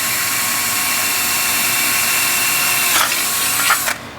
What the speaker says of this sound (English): And we're going to attempt to drill that straight.